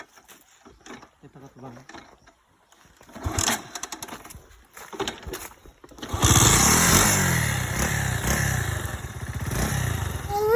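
A flooded motorcycle engine sputters and coughs through a few attempts, then catches and runs steadily and loudly close by, with voices around it.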